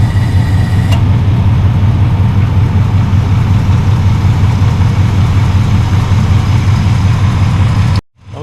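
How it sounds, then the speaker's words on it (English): A car's AC compressor runs steadily during a refrigerant recharge, heard as a loud, continuous low engine drone and hum with no cycling off, ending abruptly. "the compressor is no longer turning off. It's consistently staying on now."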